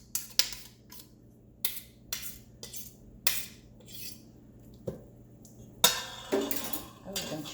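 A small spoon clinks and scrapes against a bowl while portioning cheesy chicken fritter mixture into little patties, with about eight short, separate metallic taps at a steady pace, close and fairly quiet, followed by a louder clatter near the end.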